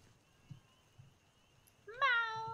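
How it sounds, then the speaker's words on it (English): A cat in the video game Skyrim gives one clear, rising meow near the end, after quiet game ambience marked by soft, evenly spaced thumps. "But I have my cat, and that's all that matters"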